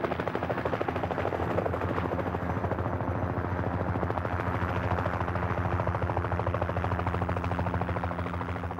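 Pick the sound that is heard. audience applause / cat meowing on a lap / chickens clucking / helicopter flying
helicopter flying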